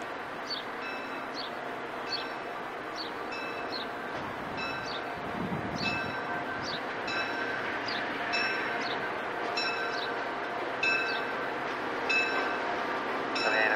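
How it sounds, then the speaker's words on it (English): A Conrail train in Western Massachusetts rolls in along the track with steady rail rumble, high-pitched squealing wheel and brake tones repeating throughout, fairly close and continuous, with no talk. "Ticket now arriving on track number 8."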